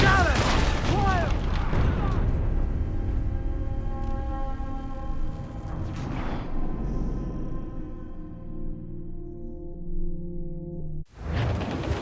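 Ship cannon fire in Assassin's Creed Black Flag: loud booming blasts with long rumbling decays, then a sharp crack near the end, mixed with faint voices and game sound.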